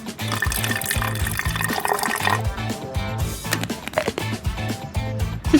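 Water poured into a dog paw cleaner, a close, continuous splashing and gurgling fill with bubbly, uneven texture and no talk.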